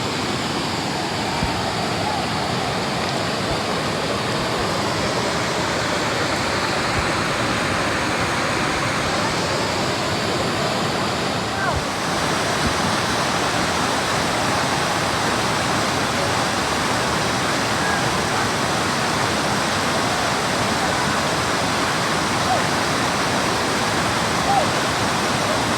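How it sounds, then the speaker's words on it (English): Shacktown Falls roars steadily: a loud, dense, continuous rush of falling water heard from near the base of the waterfall, unbroken and unchanging for the full length with no talking. "I'm going to collect it from near the base of the waterfall"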